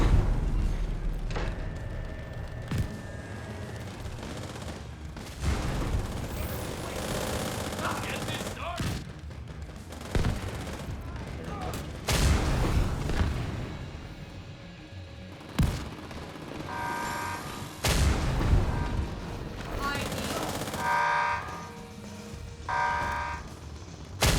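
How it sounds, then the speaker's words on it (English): Mortar fire and explosions in the video game The Division 2 boom and thud repeatedly across a dense, loud battle soundscape, with heavy impacts scattered irregularly among gunfire and rumbling blasts. "Support them with mortars."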